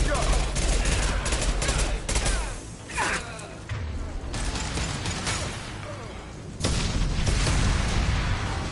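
Mass Effect 2 combat: a dense burst of gunfire and mechanical weapon clatter with a booming concussive blast, loud and continuous, with game dialogue underneath.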